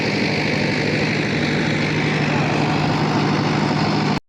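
A Sonalika 60 tractor pulls a super seeder through a field, its diesel engine giving a steady, loud, continuous drone that holds unbroken throughout before cutting off abruptly at the end.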